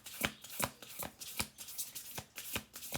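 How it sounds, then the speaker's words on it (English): Oracle cards being shuffled by hand, a rapid series of crisp riffling slaps and flicks repeating roughly every half second, close and fairly quiet with no talking. "let me do one more shuffle."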